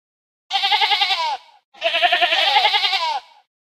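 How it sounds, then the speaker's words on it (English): Two loud, quavering bleats come from close by, each lasting close to a second, with a short pause between them. They could be from a sheep or a goat. "Sheep"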